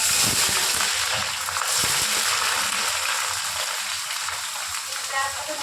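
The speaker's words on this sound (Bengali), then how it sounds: "পেঁয়াজটাকে ভালো করে ভেজে নেবো, একটু মুচমুচো করে ভেজে নেবো।" Onions fry in hot oil in a pan for veg biryani, a loud, steady crackling sizzle with occasional stirring scrapes, continuous throughout and without speech.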